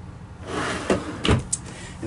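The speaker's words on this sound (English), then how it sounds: "And then we've got the same three drawers on the opposite side." Kitchen drawers in a 2019 Rugged Mountain Granite 9 RL truck camper slide open and shut close by, giving a few soft rolling sweeps and two or three firm thumps.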